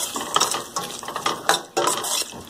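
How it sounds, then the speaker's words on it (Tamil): Carrot and bean vegetable kurma stirred in a pan with a metal spoon, with repeated scraping clinks against the pan over a faint background hiss. "இந்த காய் வந்து ஒரு 2 நிமிஷம் நீங்க அப்படியே கிண்டிட்டே இருங்க."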